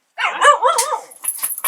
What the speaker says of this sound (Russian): Сколько собак?